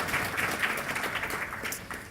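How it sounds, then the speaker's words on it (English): Dense, sustained audience applause for panellists at a 2019 climate adaptation conference panel, many hands clapping at an even level with a slight fade near the end. "Should we have a round of applause for all of the panellists?"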